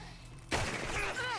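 A single loud gunshot in Red Dead Redemption 2 cracks suddenly out of near silence, followed by a short echoing tail and faint ringing tones as it dies away.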